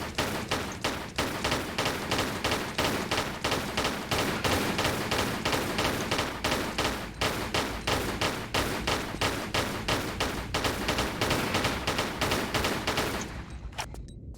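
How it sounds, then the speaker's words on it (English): Dual pistols fire in Tomb Raider: The Last Revelation, a long, fast, even stream of sharp shots close and loud, continuing steadily before stopping abruptly near the end. "I might as well use the dual pistols"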